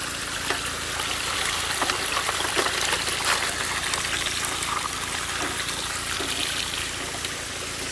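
Water from a hose runs through a mini sluice box at a creek while testing a gravel pile, a steady close trickling and gushing flow with small splashes.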